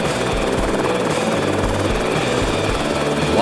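A helicopter on an icefield, its rotor beating in a rapid, steady thump close by, loud and continuous, with a heavy engine whine underneath and no talking.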